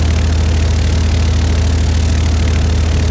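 A light aircraft engine runs up to 1200 rpm on the ground, a loud, steady low throbbing drone with even pulsing and no pauses, heard close up.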